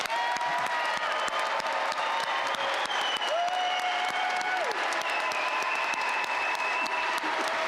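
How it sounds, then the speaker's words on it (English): Sustained round of applause from a large crowd honoring graduates at a December commencement ceremony, dense steady clapping filling the hall throughout with a faint tone sounding briefly midway. "Please join me as we honor all of our graduates with a well-deserved round of applause."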